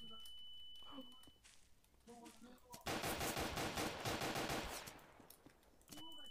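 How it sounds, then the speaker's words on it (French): A small paintball pistol fires in a homemade horror video game, a dense rapid burst of sharp shots lasting a few seconds, loud and close, with people talking around it. "Et moi, je peux te tuer avec le petit pistolet."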